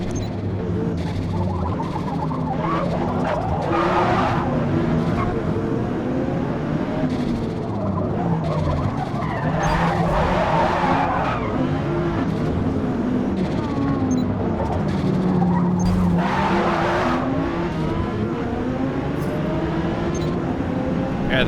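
A car's engine drones steadily in cockpit view in Forza Motorsport on the Fujimi Kaido course, while tires squeal and skid in several drawn-out bursts through corners.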